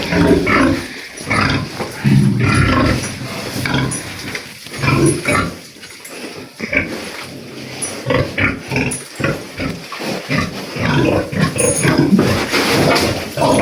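Pigs in a pen during cleaning and disinfection, agitated as if expecting feed, grunt and squeal continuously and loudly at close range, many animals overlapping without pause.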